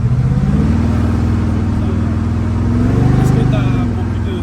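A lifted, modified 'donk' car's engine rumbles steadily, loud and close, then swells slightly as it is revved on a Montreal street.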